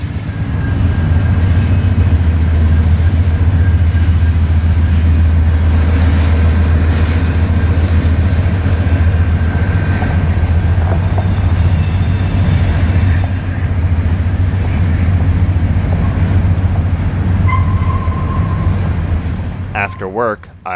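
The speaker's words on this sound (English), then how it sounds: "But first came Amtrak 20, surprising us with the Heartland Flyers' big game train leading the way." Amtrak 20, a passenger train led by a Heartland Flyer locomotive, passes through Georgia or Florida. A loud, continuous low rumble of the passing train rolls on for about twenty seconds and fades at the end.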